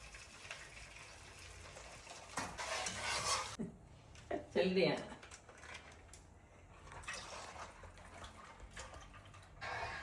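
A spoon stirs milk in a pot for payasam, scraping and swirling in uneven bursts, with a few louder clinks of metal against the pot. Steady low kitchen background noise runs underneath.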